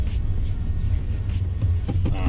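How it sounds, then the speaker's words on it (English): A 2018 Ford F-150 pickup truck engine with direct injection runs steadily, warmed up, a low continuous rumble heard from inside the cab during a drive, with no talk. "You can hear the engine."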